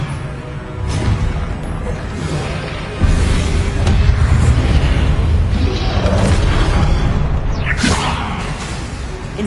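A Levioso levitation spell cast in Hogwarts Legacy, heard as a dense, steady rush of magical whooshing and low rumble with a sharper burst near the three-second mark, busy and loud throughout without any voices.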